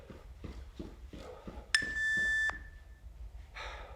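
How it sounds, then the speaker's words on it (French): Single electronic workout timer beep sounds sharply for about a second, ringing out briefly after soft rhythmic breathing and movement noises during a home lower-body exercise session. "On n'arrête pas avant le bip"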